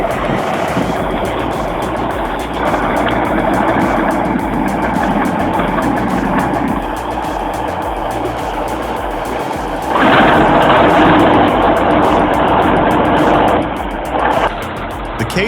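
Heavy diesel engine of a K701 tractor towing a Chetra bulldozer, a steady loud rumbling drone that swells and roughens partway through, as if under strain, with no talking.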